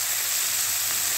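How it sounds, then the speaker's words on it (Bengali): Tomato, capsicum and green chilli frying together in a pan at breakfast, giving a steady, even sizzle with a bright hiss that holds level throughout, fairly close and unbroken. "টমেটো ভাজা হচ্ছে"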